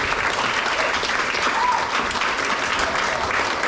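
Steady, dense audience applause fills the hall at a lively Leisberg festive show in Estonia, loud and continuous throughout with no voices over it.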